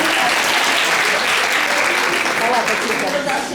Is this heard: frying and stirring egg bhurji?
no